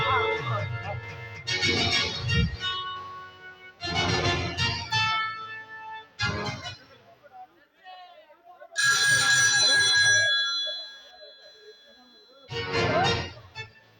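A telephone rings during a Telugu social stage drama, loud and close. It sounds in several bursts of bright, repeating electronic trills separated by short pauses, with voices heard around it.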